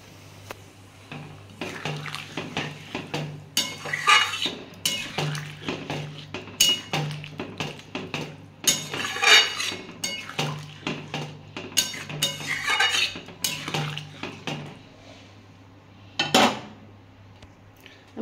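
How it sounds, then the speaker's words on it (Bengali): A spoon stirs curry in a pot after water has been poured in, making repeated clinks and scrapes against the metal with watery sloshing, in a close, uneven rhythm and without any talking. "আমার কষানো হয়ে গেছে, আমি এবার একটু জল ঢেলে দেবো।"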